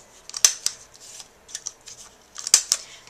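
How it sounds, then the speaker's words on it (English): A handheld corner punch snips the corners of a paper greeting card, giving sharp, crisp clicks in close succession, grouped in pairs with quiet gaps, heard close up with no talking. "I'm going to go ahead and just snip the corners with my corner punch."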